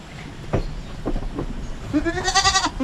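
Goats on a farm bleating, with a few soft knocks and shuffles first and then a loud, close, wavering bleat near the end.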